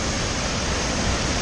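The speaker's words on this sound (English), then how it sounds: "That's the waterfall comes down into the river." A waterfall pours down into a river at Devil's Kettle in Minnesota, making a steady, dense roar of rushing water that stays loud and unbroken throughout.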